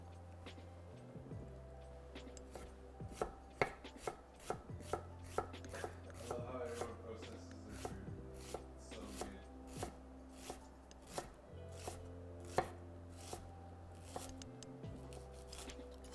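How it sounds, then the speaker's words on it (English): A knife chops a shallot on a cutting board in a home kitchen: a steady series of crisp, close taps, irregular in rhythm, with a low hum underneath and no talking. "mince this shallot up."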